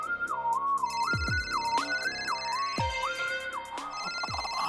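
A mobile phone ringtone signals an incoming call, a bright repeating electronic melody with a steady looping rhythm, played loud and clear with no voices.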